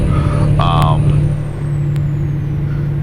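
Diesel truck engine in American Truck Simulator, hauling a G3520C gas generator toward Los Angeles, drones steadily at low pitch with a brief air-brake hiss near the start.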